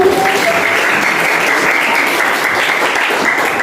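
A standing group claps steadily and loudly throughout an ice-breaking cheer in a school classroom session, dense applause-like clapping with no clear speech.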